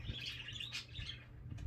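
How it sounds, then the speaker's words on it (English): Birds chirp and twitter in scattered short calls on a rainy day, fairly faint over a low background rumble, with no talk. "the birds are always really happy when it's rainy"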